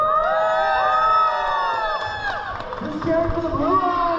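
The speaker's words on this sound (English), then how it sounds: "who's cheering for the Red Alliance?" Crowd cheering and shouting at an FTC PowerPlay robotics competition, NorCal Regionals division finals, a dense wash of many voices rising and falling across the hall, with a loud announcer-style voice talking over it.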